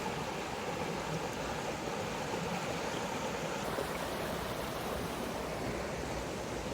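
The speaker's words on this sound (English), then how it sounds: "We crossed the river!" A river crossed on a mountain hike near Hood Mountain flows with a loud, steady rush and gurgle. The water sound is continuous and close throughout, with no voices.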